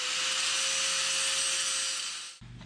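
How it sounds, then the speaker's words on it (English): Harsh, high-pitched whine of an angle grinder grinding off a rivet pin on a motorcycle chain, loud and sustained for over two seconds before cutting off abruptly into a low motor hum. "take my grinder, grind off one of these pins"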